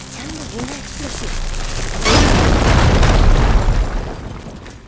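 A loud explosion bursts in the video game Horizon Forbidden West, its broad roaring blast swelling midway and rumbling off over a couple of seconds, preceded by quieter game sounds.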